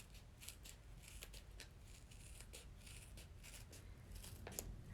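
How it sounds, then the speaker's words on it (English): Small, very sharp scissors trim the backing and adhesive of an embroidery patch in a string of soft, crisp snips, quiet and close, with no talking. "So I have these small super sharp scissors"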